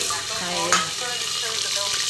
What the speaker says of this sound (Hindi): तो मैं डाल रही हूँ प्याज और लहसुन।